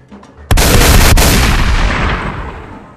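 A single loud, booming 18.5mm auto cannon blast in Call of Duty Zombies erupts after a brief quiet start, followed by a long reverberant decay that fades slowly.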